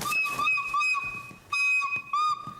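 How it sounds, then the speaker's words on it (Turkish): A child at a nursery-school stage plays a flute badly, shrill wavering tones in short, uneven bursts that stop and restart, loud and close with no talking. "Kreşte flüt öğrenmeye başlamışlar."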